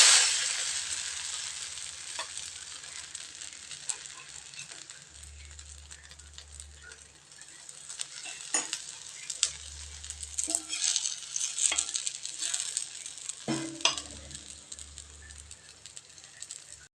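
Coriander dosa batter frying on a hot pan, a broad steady sizzle that starts loud and settles into a gentle hiss, with occasional soft clicks and scrapes and a low hum beneath.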